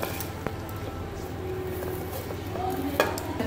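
Onions frying in half a cup of hot oil in a kadhai while being stirred for chicken karahi: continuous close sizzling with scraping spoon strokes and occasional light metallic clinks, no talk.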